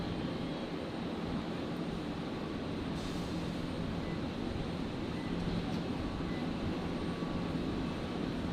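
An airliner takes off from Brisbane Airport and climbs away, a faint, distant, even rumble that stays at a constant low level without speech.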